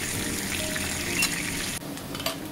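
Eggplant slices fry in oil in a pan with a steady, close, dense sizzle and crackle that drops slightly near the end.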